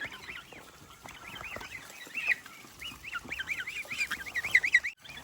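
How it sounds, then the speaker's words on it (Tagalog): A flock of ducks quacking nonstop, calls overlapping in a busy chatter, fairly close, with no one speaking. "So ayan ang mga pato."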